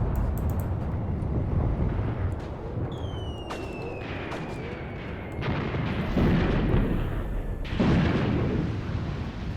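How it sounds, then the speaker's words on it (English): Enemy mortar rounds land in the WWII tactics game Graviteam Tactics: Mius Front, a run of booming, rumbling explosions with a few sharper bursts over continuous battlefield din and a faint whistling tone. "This enemy mortar team is working overtime"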